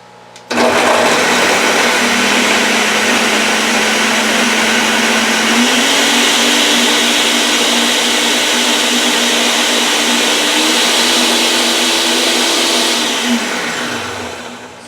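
A Ninja blender purees strawberries with a loud, steady motor whir that holds for over twelve seconds, stepping up slightly in pitch partway through, then spins down and cuts off.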